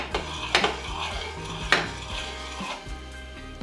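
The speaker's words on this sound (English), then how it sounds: "Turn the heat on low. Give it a quick stir." Oats being stirred in a pot on low heat, a few clinking spoon strikes against the pot and soft scraping, close, over a low steady hum, no voices.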